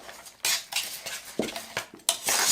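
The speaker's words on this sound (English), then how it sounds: "Give it a stir." A spoon scrapes and clinks against a bowl while stirring rehydrating freeze-dried survival food with potatoes, several short bright clatters and scrapes in an uneven rhythm, close and clear with no talk.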